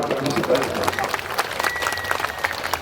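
Audience clapping at a Hindi religious discourse, brief and uneven claps mixed with crowd noise and a voice over a microphone.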